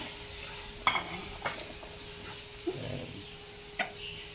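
Carrots and sayote sauté in a pan for pork miki lomi, a soft steady sizzle broken by a few sharp scrapes and clinks of stirring.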